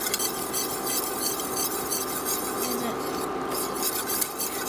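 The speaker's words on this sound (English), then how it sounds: "You simply want to keep stirring" German chocolate cake filling is stirred continuously in a pot on the stove, the spoon scraping and sloshing steadily and close up against a low simmering hiss.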